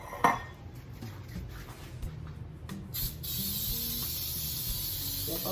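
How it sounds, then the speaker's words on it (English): Aerosol cooking spray hissing onto a cupcake-size muffin pan in a home kitchen, a steady close spray building from about three seconds and holding to the end, after a few earlier clinks of metal pan handling. "Step over here and spray my pan."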